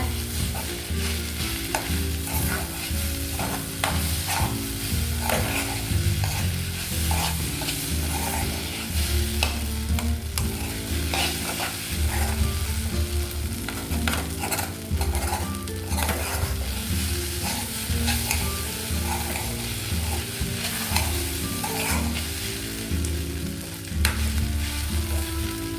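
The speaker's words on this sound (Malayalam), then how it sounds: "നന്നായിട്ട് മിക്സ് ചെയ്യണേ." Leftover dosa pieces and egg mixture fry and get stirred in a pan, with a continuous close sizzle and steady scraping and stirring strokes throughout, no voices.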